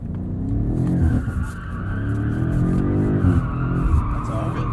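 Tires of a 2021 BMW M5 Competition screech continuously as the car slides through a drift in four-wheel-drive sport mode, with loud engine roar and wavering squeal pitch across the whole stretch.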